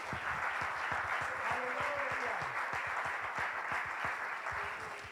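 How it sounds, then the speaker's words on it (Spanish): A church congregation applauds during a worship service, a steady wash of rhythmic clapping at moderate distance with faint sustained musical tones underneath. "Dale ese aplauso al Señor"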